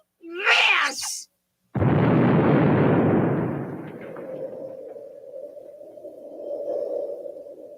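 A cartoon nuclear explosion: after a brief squeaky burst, a sudden loud roaring blast hits and slowly rumbles away into a long, fading, droning hum.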